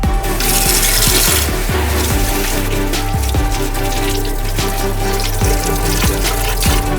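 Beet greens being rinsed under running tap water for barszcz soup, with a steady close rush of flowing water mixed with rubbing, rustling sounds of leaves handled in the stream, no voices.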